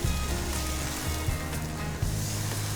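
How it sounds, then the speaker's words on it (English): Brisket searing in a hot pan, a dense crackling sizzle that stays loud and close, with low rumbling bumps from the pan underneath. "While your meat is browning and searing"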